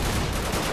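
Dense gunfire in Call of Duty Modern Warfare rings out as one loud, unbroken burst of shots with no quiet gaps, filling the whole brief moment.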